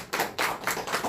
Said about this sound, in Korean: 다시 한 번 더 박수 주세요.